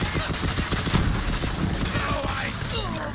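Rapid bursts of gunfire from a weapon in the video game Borderlands 3, a loud, dense fusillade of overlapping shots with booming impacts that runs continuously through the whole stretch.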